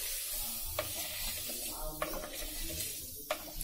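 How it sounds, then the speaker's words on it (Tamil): Black urad dal roasting in a pan for vallarai chutney: a steady, fairly soft sizzle and hiss with a few brief spoon scrapes as the lentils are stirred. "இது உளுந்து கொஞ்சம் செவக்கிற வரைக்கும் நம்ம வறுத்துக்கலாம்."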